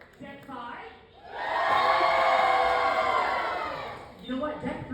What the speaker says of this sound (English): let's see by applause and screams and cheers, who is the most excited